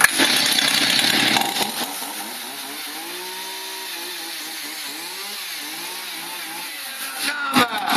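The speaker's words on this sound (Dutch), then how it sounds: "Start die zaag." A chainsaw cracking nuts runs loudly nearby, first at a harsh high rev, then dropping to a steady, wavering idle before revving again at the end.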